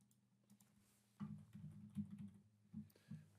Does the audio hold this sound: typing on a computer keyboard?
yes